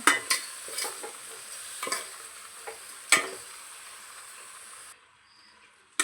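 Mutton cooks with salt and garlic for mutton sambar, a soft sizzle punctuated by several sharp stirring scrapes against the pot that fades to near quiet at the end.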